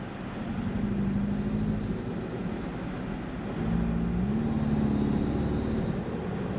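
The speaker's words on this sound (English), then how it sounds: "I do love hearing that breathing through the snorkel over there." Low, steady engine drone from inside a moving Toyota Tacoma Trailhunter, with a breathy whoosh from the snorkel intake rising and falling as the revs shift.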